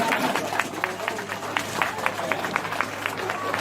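Audience applause after an official's call at a government event, a steady round of clapping with crowd noise, moderately loud and continuous throughout, with a voice faintly underneath.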